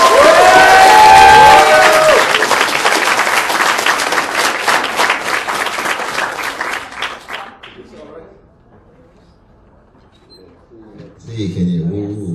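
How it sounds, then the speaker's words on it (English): Loud crowd applause and cheering at a student conference for about seven seconds, fading out, followed by a quiet pause and then a voice speaking. "So let's give them a round of applause."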